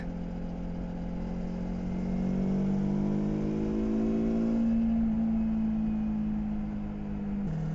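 A Kawasaki Versys X 300 motorcycle engine accelerates in fifth gear, with a droning whine that climbs steadily in pitch under wind noise before it eases off near the end.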